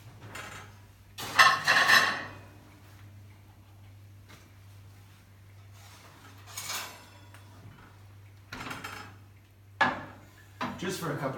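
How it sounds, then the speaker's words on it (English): Plates clink and knock as they go into an oven to warm, in a few short ceramic and metal bursts separated by quiet gaps, with a low steady kitchen hum behind them. "We're going to pop the plates in the oven."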